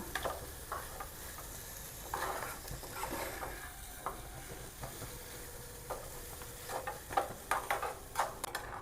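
Mashed potato is worked together with spices by hand for potato-onion kachori filling, making soft, quiet, irregular squishing and patting sounds that come in short bursts against a hushed room.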